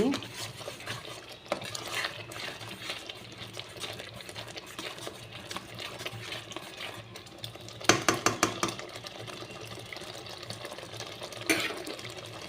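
Spice masala with Kashmiri chilli powder stir-fried for mutton curry, a soft continuous sizzle under repeated spoon scrapes and a quick run of sharp clinks against the pan near the middle.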